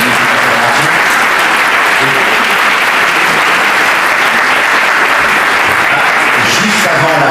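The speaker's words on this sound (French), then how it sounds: "Merci François, je crois qu'on peut encore t'applaudir pour cette magnifique intervention." A conference audience applauds a speaker, with dense, steady clapping filling the whole stretch, loud and close, sustained without a break.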